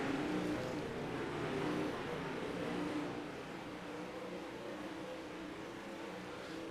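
Race cars at Kokomo Speedway: a steady, loud engine roar from a pack racing under green flag, holding dense and constant with a slight drop midway and no speech.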